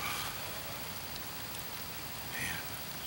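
Steady rain falls during a cool Michigan deer hunt in a ground blind, a soft even hiss of drops on surfaces with no voices.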